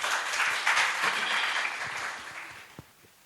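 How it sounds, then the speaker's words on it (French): Listeners at a literary poetry reading applaud after a poem, a brief moderate burst of clapping that thins and fades out. "On applaudit"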